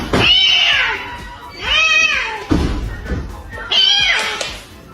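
A cat meows three times at close range, each a loud, drawn-out, wavering cry, separated by short pauses with a soft thud between calls.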